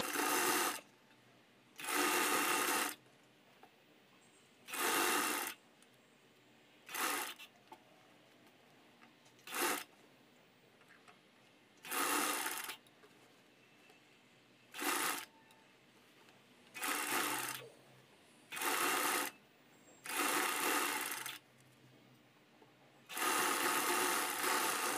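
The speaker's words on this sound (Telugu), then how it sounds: "ఇలా స్టిచ్చింగ్ చేసుకునేటప్పుడు కూడా హ్యాండ్ అంచు బాడీ అంచు రెండు ఒకదాని మీద ఒకటి రెండు ఇలా కలిసి పర్ఫెక్ట్గా ఉన్నాయా లేవా అని చూసుకుంటూ స్టిచ్ చేయండి" A sewing machine stitches sleeves onto a dress in a run of separate bursts, each lasting one to two seconds and separated by short pauses. The machine is close and loud, with no voices heard.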